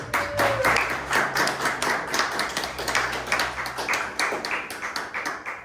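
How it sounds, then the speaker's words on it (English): An audience at an event applauds, a dense, lively patter of many hands clapping up close, with a brief tone and a low hum underneath. "You applauded a lot, but let's hear it again for you."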